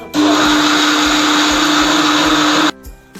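A loud mixer grinder grinding soaked rice whirs steadily for a few seconds, a constant high motor whine over a gritty churning, then cuts off abruptly.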